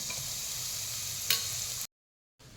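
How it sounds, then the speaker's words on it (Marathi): A ground spice paste for sabudana khichdi fries in hot oil with a steady, fairly loud sizzle and a brief sharper crackle midway, then cuts to silence before resuming faintly. "आता हे सगळं वाटण आपण तेलात परतून घ्यायचं आहे"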